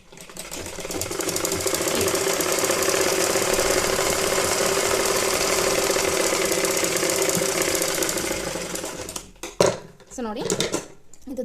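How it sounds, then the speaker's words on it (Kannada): Electric sewing machine stitching a cloth baby nappy, a steady fast whirring rattle that runs for about nine seconds and then stops, followed by brief handling noise and a voice. "ಮತ್ತೆ ಸ್ಟಿಚನ್ನು ಸ್ಟಾರ್ಟ್ ಮಾಡಿ ಓಕೆನಾ ಸೊ ಕಾಲು ಇಂಚ್ ಮೇಲೆ ಹಿಡಿದು ಸ್ಟಿಚ್ ಹಾಕ್ತಾ ಹೋಗಿ"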